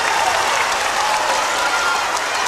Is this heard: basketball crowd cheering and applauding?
yes